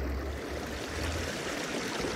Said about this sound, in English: I got moving water